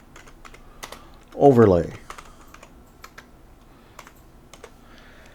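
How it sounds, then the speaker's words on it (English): Light key clicks from a computer keyboard as someone types into the Clipchamp filter search box, scattered and faint, with a brief spoken word partway through. "now I'm going to type in the filter search box there and just simply type in orange"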